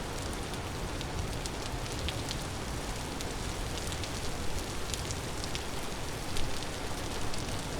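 Steady rain in the video game Vintage Story hisses without a break, with faint drop-like ticks scattered through it. Moderate and even, no voices.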